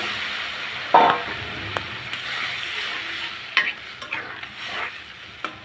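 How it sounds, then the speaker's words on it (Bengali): Water poured over green tomatoes frying in a pan sets off a close sizzle and hiss, with a sharp burst near the start and a few scraping stirs and taps over a steady bubbling fry. "এখন দিয়ে দিব পানি এরকমভাবে পানি দিতে হয় যাতে সিদ্ধ হয়ে যায় টমাটোগুলো"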